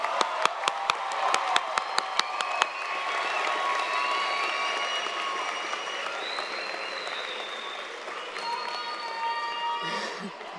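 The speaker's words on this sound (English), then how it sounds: "can we please give our graduates one more round of applause?" Audience at a commencement ceremony applauding graduates, a few sharp claps at first swelling into sustained, dense applause and cheering from a large crowd that holds steady before tapering slightly near the end.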